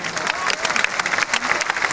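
Applause fills a hall during a poetry recital at a college festival, with dense, continuous clapping from a large audience, heard close and fairly loud.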